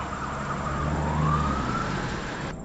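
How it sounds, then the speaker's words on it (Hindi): An ambulance siren wails in a rain-soaked road scene from a Hindi cartoon story, a single rising and falling tone over a steady rumble of traffic and rain, moderately loud throughout and cut off abruptly at the end. "तब जाकर एम्बुलेंस आई।"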